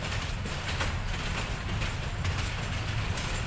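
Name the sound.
train at Parbatipur railway station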